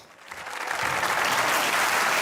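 Applause from a comedy show audience swells quickly from a quiet start into loud, dense clapping that holds steady to the end.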